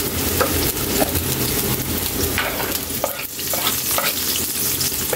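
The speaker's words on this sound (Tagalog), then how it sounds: "ilagay na natin Kylie ang ating sibuyas" Onions sizzle in a hot pan while being stirred for an octopus dish, a close, continuous frying hiss broken by scraping and clattering stirring strokes, with no voices.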